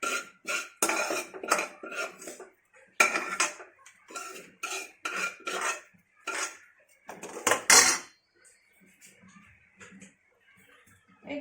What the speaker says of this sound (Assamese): মই এখন কাঁহী থালত ওলাই ৰাখিছোঁ।